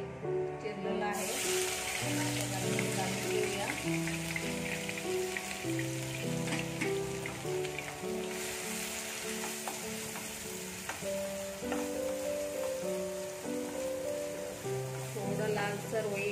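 Finely chopped onions fry in hot oil for chicken kheema, giving a continuous bright sizzling hiss under steady background music throughout.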